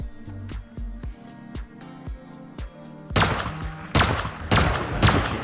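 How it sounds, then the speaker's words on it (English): Shotgun trap in a video game fires at a trap base, several loud, close blasts in quick succession after a stretch of softer rhythmic thumping. "This should protect me while I'm struggling to drain the shotgun trap."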